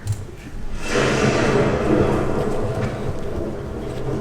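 A long, loud rumble of thunder from a stage storm builds within the first second and rolls on steadily throughout, with no talking over it.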